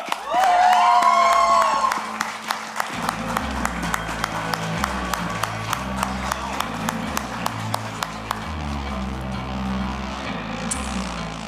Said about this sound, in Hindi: जोरदार तालियों से स्वागत कीजिए फरहान अख्तर